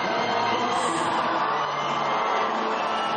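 A sports crowd cheers and roars steadily in an arena, acclaiming volleyball player Elisângela, a dense continuous wall of voices with whoops and shouts throughout.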